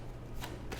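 Oracle cards shuffled by hand, with two quick soft riffling bursts close by over a faint low background.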